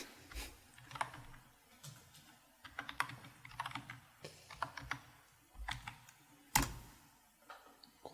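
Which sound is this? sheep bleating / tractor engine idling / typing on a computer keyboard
typing on a computer keyboard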